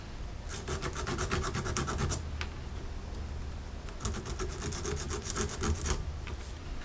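Rapid back-and-forth rasping of a sanding stick on a 3D-printed plastic model part, two long bursts separated by a brief pause, close and steady.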